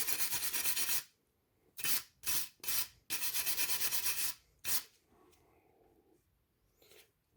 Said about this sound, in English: So just a metal brush, just to clean off some of those surfaces right there.